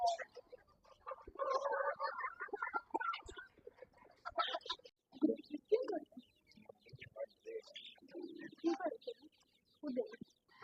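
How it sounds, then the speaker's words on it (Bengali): Chinese-breed chickens clucking nearby in bursts of irregular, chattering calls, fairly faint, with some background voices at times. "চাইনিজ মুরগি এটা।"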